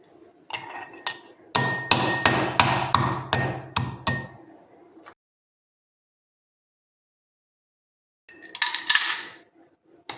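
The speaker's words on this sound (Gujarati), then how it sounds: "તો આ રીતના આપણે અહીંયા ખાંડની અંદર લઈ અને વાટી લેવાની છે સાકરને।" Rock sugar crystals pounded in a mortar, about a dozen sharp hard knocks in steady rhythm with a ringing clink, then a pause and a second short burst of pounding.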